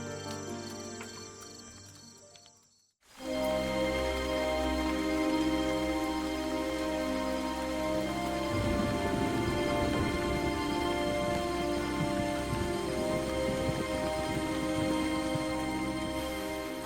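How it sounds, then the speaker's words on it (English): Steady cold rain falls in a continuous dense hiss, with a heavier patter building up partway through; no voices. "The morning of the 24th of July, 1911, dawned with a cold rain."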